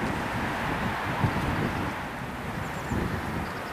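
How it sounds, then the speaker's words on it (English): Strong wind blowing outdoors during macro flower photography, a steady broadband roar with rumbling microphone buffeting throughout, loud and continuous with no voices. "Now it's very windy, so I had to wait a little bit"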